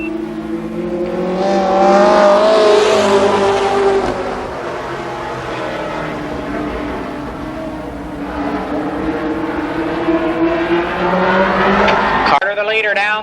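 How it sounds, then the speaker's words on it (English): Sprint cars roar around Columbus Motor Speedway, engines loud and rising then easing as the pack passes, a continuous droning blare with a sharp cut near the end. "4 cars, they'll race for 4 laps."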